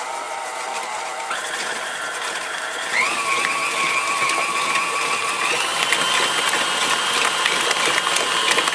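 Electric mixer beating cheesecake filling at low speed, a steady whirring mechanical drone with a rising motor pitch partway through, close and continuous with no talking.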